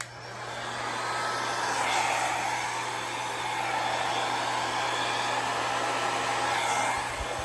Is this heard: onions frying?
no